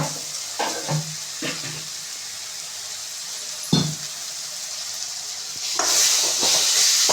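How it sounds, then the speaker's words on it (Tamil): Egg thokku sautéing in a pan with chili powder, a sizzling, frying hiss broken by several scraping stirs, swelling louder toward the end as the sizzle intensifies. "போட்டுட்டு இது மாதிரி நல்லா வதக்கிக்கோங்க."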